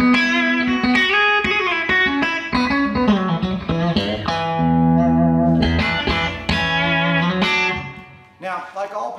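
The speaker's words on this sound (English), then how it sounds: "It's a really natural sounding compressor. It doesn't thin your tone out at all," Electric guitar played through a Providence Velvet Comp VLC-1 compressor pedal, a steady sequence of sustained chords and single notes with smooth, even attack and full tone, alone without talk.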